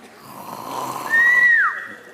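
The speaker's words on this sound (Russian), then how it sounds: "Храпит." A single drawn-out snore builds as a raspy breath and ends in a thin whistling tone that rises and then drops away. It is fairly close and heard on its own.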